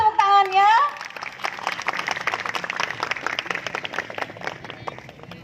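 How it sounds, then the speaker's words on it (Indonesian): Audience applause at the Sundalen Ethno Music Festival 2019, a steady mass of clapping from a crowd following a brief opening voice, continuing evenly at moderate loudness. "Mana tepuk tangannya?"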